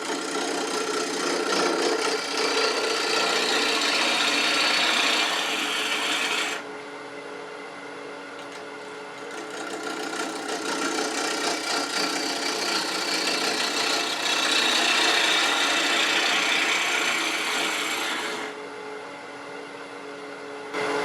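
Wood lathe turning a bark-rimmed bowl as a half-inch bowl gouge cuts, a steady broadband scraping hiss over a low motor hum, dropping away briefly in two spots between cuts.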